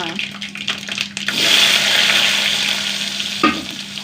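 Shallots and mustard seeds crackle and fry in hot oil, a loud close sizzle that bursts up after a couple of clanks and holds steady, with a voice talking over it.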